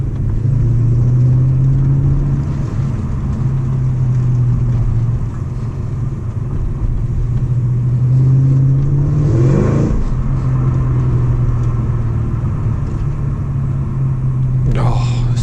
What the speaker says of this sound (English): Heavenly sounds from this V8 engine.